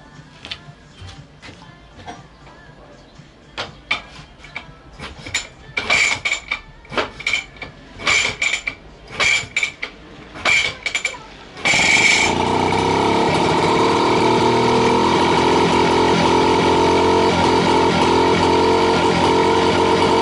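Small motor pump engine with a welded connecting rod: a series of rattling, clicking start attempts, then the engine catches and runs at a loud, steady drone for the rest of the clip.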